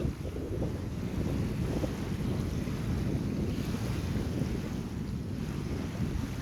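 Wind gusting steadily over a lake while a radio-controlled Mod 70 trimaran sails, a continuous loud low rumble of wind buffeting the microphone with faint water wash, no voices.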